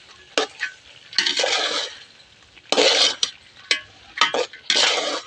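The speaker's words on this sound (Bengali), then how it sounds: "ভালো করে একটু কষে নেব মটরটা আলুটা" Peas and potatoes are sautéed for ghugni, with a utensil scraping and stirring them in a pan in several separate loud bursts divided by quiet gaps.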